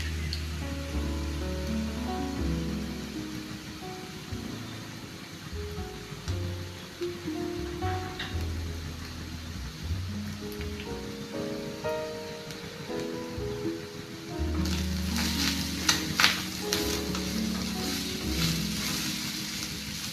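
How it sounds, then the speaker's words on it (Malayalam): Grated coconut dry-roasting in a pan for a Kerala-style chickpea curry gives a soft, steady crackling hiss throughout, partly under tonal background music. "തേങ്ങ നന്നായിട്ട് വറുത്ത് മാറ്റി വയ്ക്കണം."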